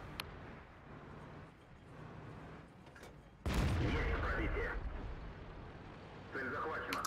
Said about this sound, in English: He's shooting up at our guys on the hill.